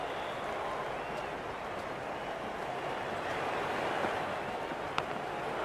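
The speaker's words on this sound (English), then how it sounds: "It's almost palpable, the excitement emanating from this crowd at the moment." A stadium crowd in a cricket video game roars as a steady, dense wash of cheering that holds through the whole stretch, with a brief sharp knock near the end.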